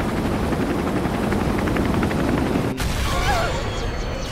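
Helicopter in the video game Resident Evil 3, a steady rotor drone mixed with rapid gunfire bursts, loud and continuous, with a brief cut followed by whistling, sweeping game effects.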